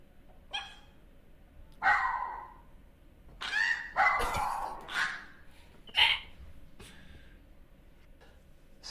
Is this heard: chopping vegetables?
no